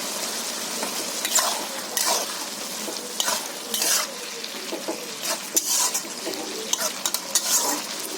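Chopped tomato hits a hot pan and is stirred through a prawn and bottle gourd curry, giving a loud steady sizzle broken by repeated scraping strokes of the spoon, close up with no talk.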